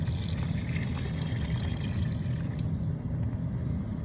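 Water pours into a bag inside a Toyota Prius while slacks are washed, making a steady, close, rushing gurgle that lasts the whole stretch with no talking.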